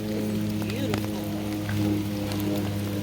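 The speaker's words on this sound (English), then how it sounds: "Even with the rain, it's like the rain is making it more natural." Rain falls steadily in a Costa Rican rainforest among tall trees, a continuous wash of drops with a low steady hum beneath and faint voices nearby.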